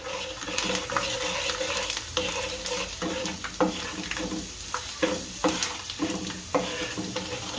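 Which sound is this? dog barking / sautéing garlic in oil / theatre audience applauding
sautéing garlic in oil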